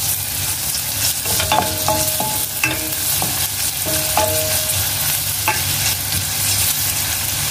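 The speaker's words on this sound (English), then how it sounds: "Ayan guys, medyo light brown na yung garlic. Next, ilagay ko na yung chopped ginger." Chopped ginger goes into a pan of garlic already frying to light brown, and a loud, steady sizzle follows, broken by scattered spoon clinks and stirring.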